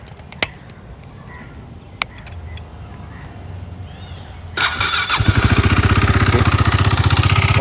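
A KTM 390 Duke single-cylinder motorcycle fitted with a new radiator fan sits quiet apart from a few sharp clicks, then fires up and settles into a loud, close, evenly pulsing thump at idle.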